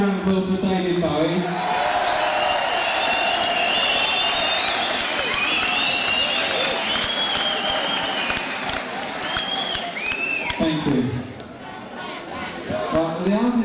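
A concert audience at Friars Aylesbury in 1979 applauds and cheers in a dense, sustained roar that fills the hall for most of the stretch, easing briefly before swelling again, with some crowd chatter mixed in.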